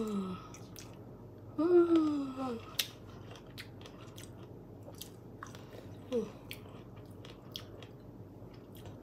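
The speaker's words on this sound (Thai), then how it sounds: "มากินตำมะม่วงกันนะคะ" Crunchy chewing and biting of Thai green mango salad, a few close, wet bites clustered early and again briefly later, with faint background noise and no talk.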